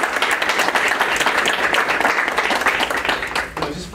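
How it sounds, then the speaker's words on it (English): Participants at an Amherst board of education meeting clap for a colleague. The applause is loud and continuous for about four seconds and tapers slightly at the end. "So can everyone give Amanda a round of applause?"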